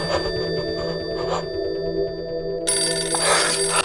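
A telephone rings in a film scene, a repeated electronic trill of steady bursts that turns brighter and louder partway through, with no talk over it.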